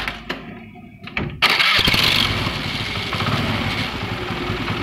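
Self-starter on a Honda Activa scooter with a slightly bent crankshaft: a few short cranking bursts, then the engine catches into a loud, close, rough idle that runs on steadily.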